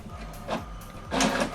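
An HP printer prints an alignment page, giving off close mechanical whirring with rising and falling feed and carriage movements over a short stretch.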